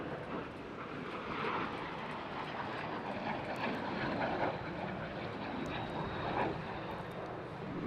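A Polish-built Soviet jet fighter passes at an airshow, heard as a broad, steady engine roar that swells and fades slightly over the crowd's open-air ambience, with no talking.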